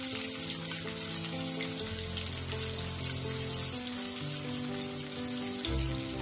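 Chopped onion and garlic fry in a pan with bay leaf for a mixed winter vegetable dish, a continuous even hiss of sizzling oil that holds steady and quiet throughout.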